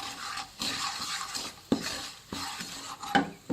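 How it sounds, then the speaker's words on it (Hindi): Sugar and jaggery cooking over a low flame for caramel bread popcorn, a spoon scraping and clinking around the pan in steady strokes over a soft sizzle, close and fairly quiet. "इसको हमने लो फ्लेम पे पकाना है कि ये ब्राउन हो जाए। चम्मच चलाते रहना है।"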